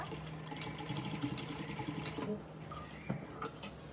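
Sewing machine stitching the side seams of a boat neck Punjabi dress, a steady close mechanical whir with a rapid needle rhythm running throughout, briefly easing off near the end.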